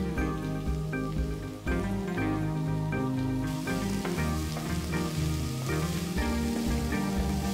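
Two finely chopped tomatoes sizzle and fry in a pan beneath steady background music, a continuous crackle with no talking.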